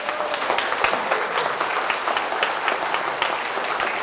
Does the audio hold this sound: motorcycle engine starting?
no